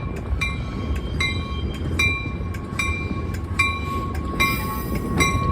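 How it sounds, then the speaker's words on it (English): A Metra commuter train comes in from the yard near Roosevelt Road in Chicago, giving a steady loud rumble punctuated by regular sharp metallic clicks and ringing tones, with no voices. "we have a Metra coming in from the yard again"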